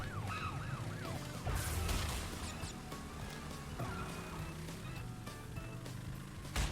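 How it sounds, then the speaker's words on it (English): Wailing police car sirens in the Crash Bandicoot 3 N. Sane Trilogy video game, rising and falling through the opening seconds over dense game music and effects. "Watch out for these police cars here."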